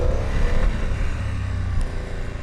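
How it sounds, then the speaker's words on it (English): A BMW F900 GS motorcycle engine runs steadily up close, its low rumble rising briefly in a couple of short revs, with no talking. "Engine sounds quite nice actually."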